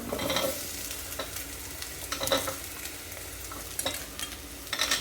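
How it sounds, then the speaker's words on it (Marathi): Mixed vegetables for masale bhat, including potato, brinjal, peas and beans with peanuts, tossed into a pan of fried spice paste: a continuous close sizzle with spatula scrapes, no talking. "तर हे ज्या काही भाज्या आपण घेतल्या तर त्या आपण परतण्यासाठी टाकूयात"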